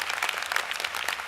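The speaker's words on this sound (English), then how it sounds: "So can I just get a round of applause for her?" A short burst of audience applause at a law school commencement ceremony, dense and continuous clapping from a crowd heard fairly close.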